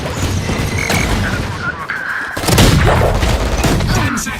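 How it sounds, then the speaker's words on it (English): Shotgun fire in Valorant: a loud, close blast rings out with a sharp burst of impact, set against ongoing in-game noise and action sounds. "Gak jelas tuh shotgun tuh sumpah"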